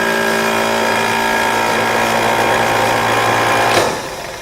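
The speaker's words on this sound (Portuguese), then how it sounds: "vamos acionar o motor de partida" A car starter motor cranks continuously for about four seconds as a steady, loud mechanical whir with a tonal hum, then cuts off and winds down near the end. No one speaks over it.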